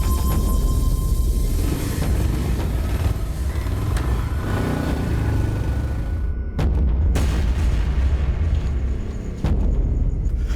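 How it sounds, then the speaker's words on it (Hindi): Several heavy gunshots boom out, with two sharp cracks standing out late, amid a constant loud rumbling roar. "गोलियां चलने की आवाज आई।"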